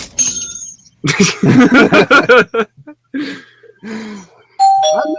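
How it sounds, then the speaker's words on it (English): A two-tone doorbell chime rings once at the end, after a stretch of lively conversation and laughter. "Was that the doorbell? No, that was. All right. that was the sound effect."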